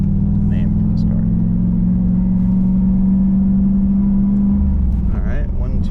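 A Chevrolet Camaro driving with a steady, loud engine drone that holds one pitch for several seconds before shifting, with a brief speaking voice near the start.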